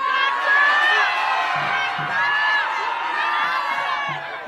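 Rally crowd outside the Supreme Court shouting out and cheering in a dense, sustained roar of many voices, with whoops and higher children's shouts rising above the mix at moderate distance.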